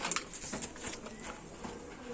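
Soft low cooing from a male pigeon, a few murmured coos close by against faint background noise.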